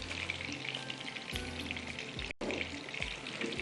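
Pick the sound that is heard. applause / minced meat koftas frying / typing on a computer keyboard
minced meat koftas frying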